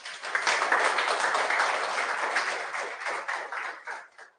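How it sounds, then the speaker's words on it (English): Students in a personality development class give a round of applause, a dense, steady clatter of many hands that holds for about four seconds before tapering off. "a huge round of applause for everyone who came."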